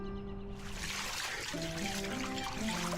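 Water trickles steadily from a tap into a jug, a continuous soft splashing that runs under sustained tonal music throughout.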